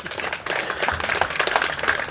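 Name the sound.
audience applause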